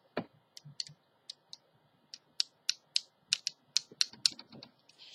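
A hard red paper bead with an embossing-powder shell is tapped repeatedly, giving sharp, crisp clicks, close and fairly quiet, falling into an uneven then steadier rapid rhythm of about twenty taps.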